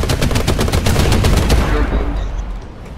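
Rapid automatic gunfire rattles out in a loud, dense burst during a tank battle video game, then cuts off and fades into quieter background.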